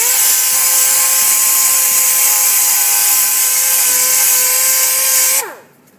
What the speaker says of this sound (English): we want to take a DA or a sander with some 120 grit sandpaper